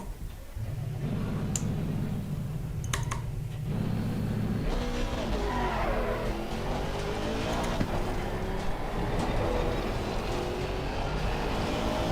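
A 4-litre twin-turbo Aston Martin race car in Assetto Corsa Competizione, lapping the Nordschleife: the engine drones steadily, then climbs and shifts through revving gear changes, loud and continuous, with no talk.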